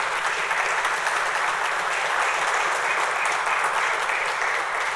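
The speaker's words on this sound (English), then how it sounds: "So round of applause for our families as well." Steady audience applause fills a badge pinning ceremony for a police academy class, a dense even wash of clapping from a crowd of families held at a constant level throughout.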